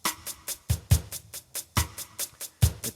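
A standard 16-beat organ rhythm pattern plays alone, with steady drum-machine hits: a low kick landing on a recurring accent every second or so, and crisp hi-hat-like ticks filling the beats between in a tight, even groove.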